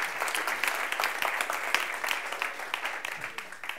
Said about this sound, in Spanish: pido un aplauso fuerte para ellos